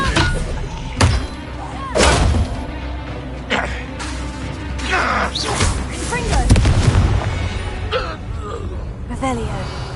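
Confringo blast spells explode in Hogwarts Legacy combat against goblins, several heavy booms and thuds spaced a second or two apart, loud and mixed with game voices and battle noise.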